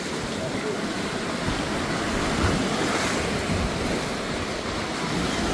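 Sea waves at Funtana beach near Poreč, Croatia, wash and rumble continuously with wind noise buffeting the microphone, a steady, fairly loud surf with no clear breaks.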